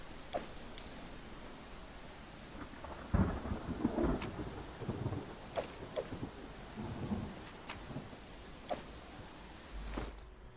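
Rain and thunder from the video game Pathfinder Kingmaker: a steady hiss of rain with several rumbling thunder rolls and sharp cracks, moderately loud and continuous with no talk.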